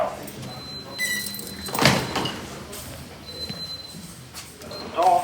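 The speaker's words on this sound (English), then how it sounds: "Doors opening. Lift going down." Stannah lift doors at a railway station glide open with a soft mechanical slide, a brief swell mid-clip among quiet ambient hum and faint electronic tones.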